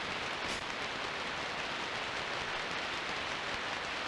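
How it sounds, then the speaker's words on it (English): Steady rain hisses evenly and continuously in the PC game Dreamweb, a dense patter with no pauses or voices. "It's still raining."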